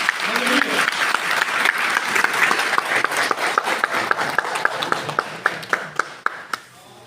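Sustained applause from a gathered worship congregation at a Christian meeting held at a police line in Lahore, steady dense clapping that thins toward the end into a few scattered claps.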